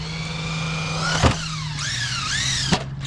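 A stock Traxxas Mini Maxx RC car's electric motor whines and revs, its pitch rising and falling in quick sweeps, with two brief bumps as it drives close by.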